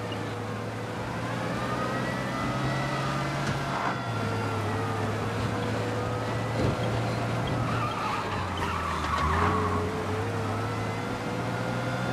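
A car engine in the video game Mafia: Definitive Edition roars at steady high revs with shifting pitch, tires squealing now and then, loud and continuous throughout.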